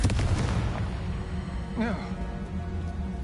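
A Confringo fire spell bursts in the Hogwarts Legacy video game, a loud broadband blast at the start that rumbles on through the clip, with game voices audible underneath.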